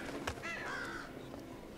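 Crows caw in the video game Thief, a couple of harsh, drawn-out calls set over a steady hum of ambient background noise.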